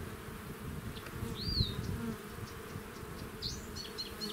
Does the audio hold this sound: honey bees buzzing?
yes